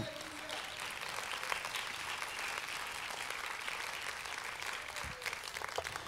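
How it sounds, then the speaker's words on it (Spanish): Steady, sustained clapping from a church congregation, dense and continuous throughout, with some voices mixed in. "Dele palmas al Señor."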